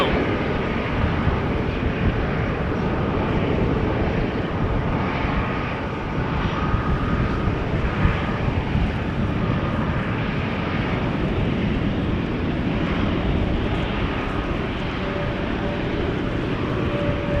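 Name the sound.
airliner passing at a rainy airport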